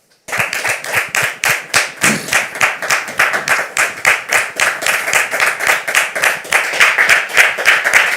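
A church audience welcomes a guest with rhythmic, unison clapping in a steady pulse, loud and close, starting abruptly and continuing evenly throughout.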